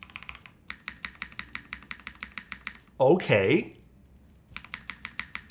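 Vanguard65 mechanical keyboard fitted with bottom foam and with its spacebar gaskets removed, typed on close up in quick, even bursts of clacky keystrokes, broken by a brief spoken remark midway before the typing resumes.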